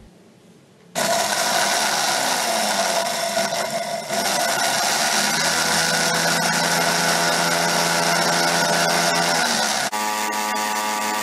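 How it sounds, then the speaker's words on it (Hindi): An electric grinder whirs loudly and steadily for about nine seconds, grinding roasted spices for a tamarind date chutney, then the motor's pitch shifts as it winds down. "यहाँ हमने मसाले को जो है ग्राइंड कर लिया है बारीकी से पीस लें"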